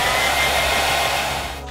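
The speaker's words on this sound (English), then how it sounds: "And have lots of hair dryers available" A hair dryer blows steadily at close range, a loud continuous whooshing hum that eases slightly near the end.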